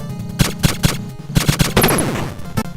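Rapid bursts of gunfire in the Contra video game, several short volleys with brief pauses between them, loud and close with some electronic effects near the end.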